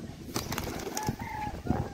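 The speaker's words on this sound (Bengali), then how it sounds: "মাদা পায়রা আছে" Madras pigeons in a loft kept for sale give soft cooing and bird calls, with a brief wing flutter, close by against a steady background murmur.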